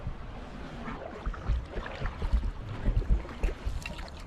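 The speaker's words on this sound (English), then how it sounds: "Paddling backwards" A kayak paddled backwards on the sea off Pembrokeshire: irregular watery splashes and paddle strokes up close, growing busier after the first second, over wind buffeting the microphone.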